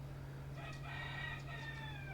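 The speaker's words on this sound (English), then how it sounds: "This fucking rooster's out here fucking around." A rooster crows at noon, one drawn-out cock-a-doodle-doo heard at a moderate distance over a quiet, humming background.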